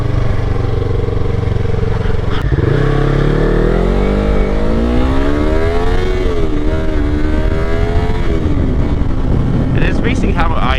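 A 2018 Yamaha R3 sport motorcycle heard while riding, its engine droning loudly and steadily, then revving up and shifting with rising and falling pitch, accompanied by heavy wind noise throughout.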